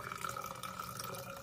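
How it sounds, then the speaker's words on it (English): Clear water poured off settled manganese dioxide particles into a container makes a steady, soft, close trickle with no talking. "So now what we're going to do is pour off the clear water."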